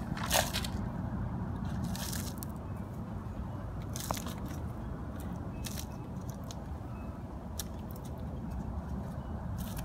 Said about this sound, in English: Take my pot, put some of the potting soil in.